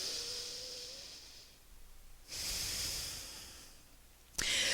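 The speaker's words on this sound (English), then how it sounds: "Big breath." Deep breathing during a glute and hamstring yoga session, long hissing inhales and exhales close to the microphone, two sustained breaths followed by a sharp quick breath at the end.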